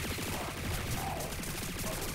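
Rapid gunfire in the Guild Wars 2 video game, a dense continuous rattle of shots at steady loudness throughout, with no voices.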